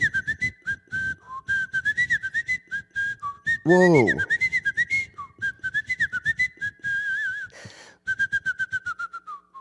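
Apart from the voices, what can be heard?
person whistling while smiling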